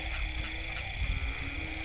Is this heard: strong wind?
no